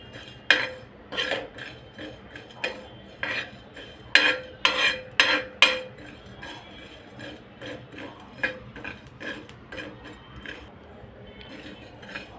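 Black pepper, fennel seeds and cumin dry roasting in a pan, stirred with a metal spoon that scrapes and clinks against it in irregular bursts, close and clear, with no talk.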